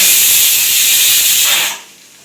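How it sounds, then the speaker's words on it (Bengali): A pressure cooker whistles loudly while boiling taro, a steady close hiss of escaping steam that holds for nearly two seconds before cutting off into low quiet. "তিনটে হয়ে গেল সিটি"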